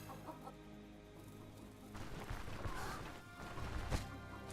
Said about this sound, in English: The chickens haven't laid eggs yet.